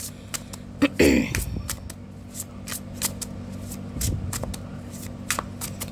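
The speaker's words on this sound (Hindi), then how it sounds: "Last shuffle." Tarot cards being shuffled by hand, a rapid run of crisp riffling flicks followed by repeated sharp card snaps in an irregular rhythm, close and clear.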